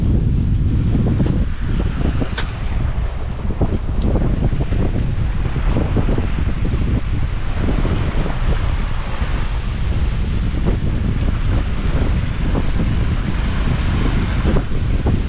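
Wind roars steadily across the microphone aboard a sailboat running off the wind at sea in about 15 knots of breeze, loud and constant, with water rushing along the hull beneath it and no talk.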